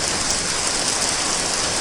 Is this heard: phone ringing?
no